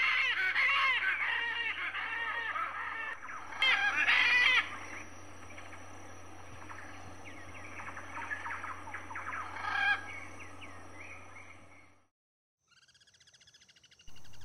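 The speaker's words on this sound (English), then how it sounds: "Blue and gold macaw." Blue and gold macaws give harsh, raspy squawks and chattering calls. They are fairly close and come in clustered bursts over a steady low hum, then cut off near the end.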